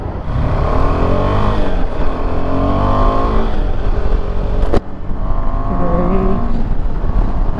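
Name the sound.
KTM 390 Adventure motorcycle engine revving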